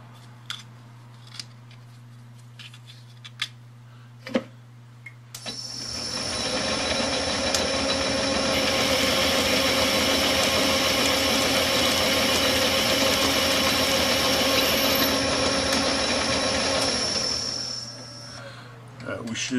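A machine tool, apparently a lathe with a chuck attachment, takes a light cut of five thousandths: faint clicks and taps, then a loud, steady grinding whine for about twelve seconds that tapers off near the end.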